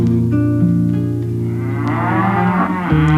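Loud, drawn-out cow moos with a deep tonal drone, one call after another, close to the microphone with no talking.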